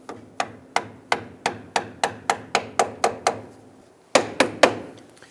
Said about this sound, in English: We want to tap this in and open up the clamp and slide this off of our steering rack.